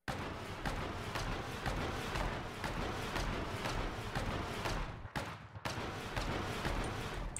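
Repeated tank cannon shots and battle noise in the war video game Foxhole, a dense, continuous barrage of loud gunfire with sharp reports throughout and a brief drop near the end.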